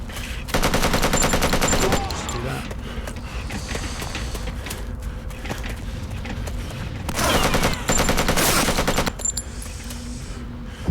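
Handgun fire in the video game Bet on Soldier: Blood Sport comes as loud rapid bursts of shots in two long volleys, with mechanical clatter and gaps of game noise between them.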